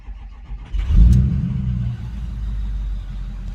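A 6.0 diesel truck engine cranks and fires up with a deep rumbling surge, then settles into a steady low idle with a faint turbo whine, loud and close.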